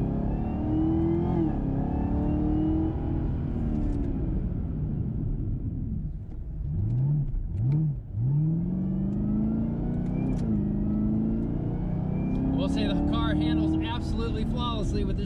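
Camaro ZL1 1LE with a full 3-inch catback exhaust accelerating hard on a track, a loud continuous engine roar that climbs and falls in pitch through gear changes, close and steady, with people talking over it.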